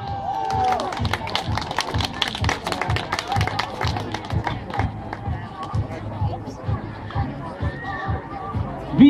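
Applause for the young girls at a children's race awards ceremony around Pühajärve, a crowd clapping in rapid patters with chatter mixed in, outdoors and moderately loud.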